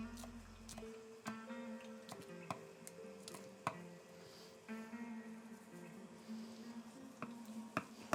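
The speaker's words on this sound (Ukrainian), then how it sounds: "тепер візьмемо трошки підріжемо зелені" A knife chops fresh greens (green onion, dill and lettuce) on a board in a home kitchen, with steady light taps running over a faint tonal background hum.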